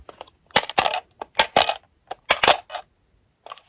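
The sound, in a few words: dice being rolled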